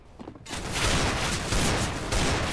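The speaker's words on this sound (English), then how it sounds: "He misses with the Deagle a bunch" Rapid Desert Eagle pistol shots ring out in CS:GO, a dense run of loud cracks following a brief quiet opening and continuing to the end.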